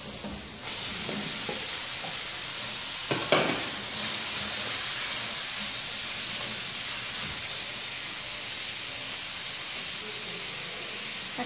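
Steady sizzling of chicken frying in a hot pan with olive oil, onion and garlic, a continuous hiss with a few brief clinks and stirs, close by and fairly loud.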